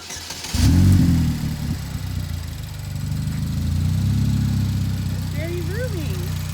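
DF Goblin kit car engine cranks and catches with a loud burst, then settles into a steady mid-pitched idle that swells slightly, with people talking over it.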